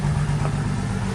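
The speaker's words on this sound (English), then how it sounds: "She's got a little bit of a rough idle" A 1999 Ford Mustang with a cranks-but-won't-start fault idles roughly, its engine giving a steady low, shaky rumble close by with no voices over it.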